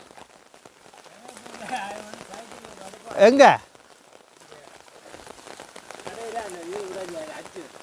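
Steady rain falling in monsoon weather, a soft continuous patter of drops on surfaces throughout, with people talking over it and a brief louder voice in the middle.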